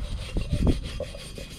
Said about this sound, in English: this wire brush may have to do for now.